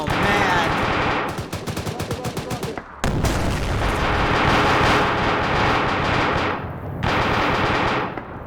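Rapid machine gun fire in a co-op military operation game: loud, sustained automatic bursts that briefly cut out near the three-second mark, then roar on with dense overlapping gunfire until close to the end.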